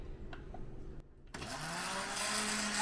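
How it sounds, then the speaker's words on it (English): A kitchen blender starts up and runs steadily at full speed, frothing a batch of ingredients with a loud continuous whirring roar that follows a brief pause and some faint handling noise. "take my blender. I'm going to blend these to the point that it's frothy"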